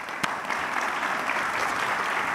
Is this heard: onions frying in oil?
no